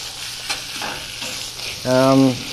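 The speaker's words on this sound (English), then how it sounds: "Now we're going to cook these just a couple of minutes on either side." Moose steaks sear in a hot pan with a steady, soft sizzle, a few light clinks and scrapes, then a brief louder tonal squeak near the end.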